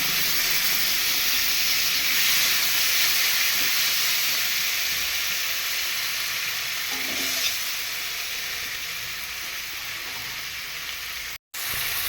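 Black cumin, chopped tomato and slit green chillies sizzling in oil for a Bengali fish curry with mustard paste, a loud continuous close hiss that eases slightly over time and cuts out briefly near the end.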